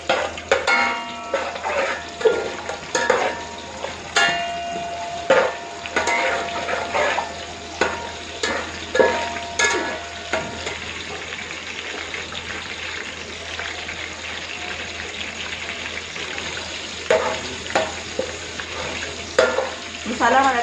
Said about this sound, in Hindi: अब हम इसको सोते करेंगे।